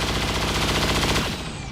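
Sustained automatic gunfire laying down suppressive fire in XCOM 2, a dense unbroken rattle of rapid shots that runs close and loud for over a second before easing off.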